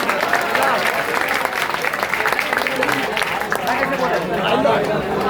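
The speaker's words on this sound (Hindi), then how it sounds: "ताली बजाइए।" Students clap together at a Teacher's Day function in a coaching class in Ismailpur: dense, steady clapping from a nearby crowd lasting throughout, mixed with chatter and a talking voice.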